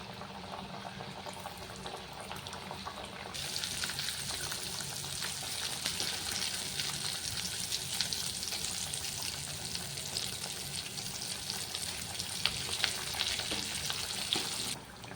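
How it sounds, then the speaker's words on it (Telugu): Wheat flour snack dough deep frying in hot oil gives a steady, soft, dense sizzling and bubbling hiss throughout, continuous and fairly quiet with no talk. "సో ఈ విధంగా మీరు మొత్తం ప్రెస్ చేసుకున్నాక ఆయిల్లో వేసి డీప్ ఫ్రై చేసేయండి."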